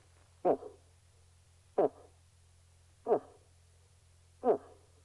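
Four short, deep grunting calls, a human imitating a bull moose grunt while hunting, evenly spaced about a second and a half apart, over a low steady hum.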